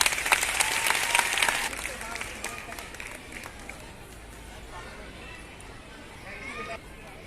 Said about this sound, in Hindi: तो एक बार फिर जोर से तालियां